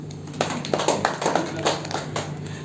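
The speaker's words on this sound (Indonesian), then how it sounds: "Tepuk tangan buat ibu-ibu." Congregation clapping for the mothers during a church service, a fairly soft, continuous patter of many hands over a low background hum.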